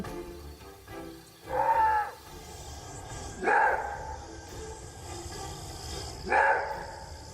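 Three loud, drawn-out barking roars from a maned wolf, a warning call, spaced a few seconds apart, each a harsh wavering call over quiet outdoor background.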